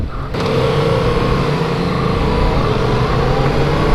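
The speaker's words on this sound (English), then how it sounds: "But this engine is definitely running pretty rough" A 2016 Yamaha FZ-07 motorcycle engine runs rough with heavy vibration, its loud, steady mechanical drone starting abruptly after a brief quiet moment and holding close throughout.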